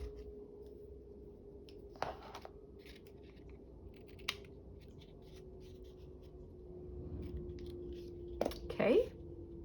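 Scissors trimming paper while crafting a postcard: a few quiet, crisp snips spaced out over several seconds, close but faint, with soft shuffling and handling noises between them.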